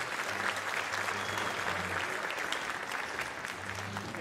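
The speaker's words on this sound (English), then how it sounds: "Yes, please give a round of applause." Audience at a district high school orchestra concert in a school auditorium applauds with steady, dense clapping that holds at an even level from start to finish.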